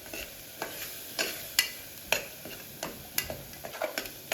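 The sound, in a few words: ginger garlic paste frying with onions in oil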